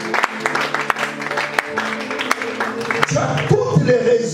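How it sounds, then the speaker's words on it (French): An audience applauds for the Lord at a religious gathering. A voice talks first, then a burst of crowd clapping breaks out about three seconds in and carries on steadily. "Est-ce qu'on peut acclamer pour le Seigneur?"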